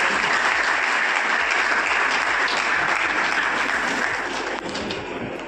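Applause from a crowd at a Punjabi Christian stage gathering, dense sustained clapping that stays loud throughout and thins slightly toward the end.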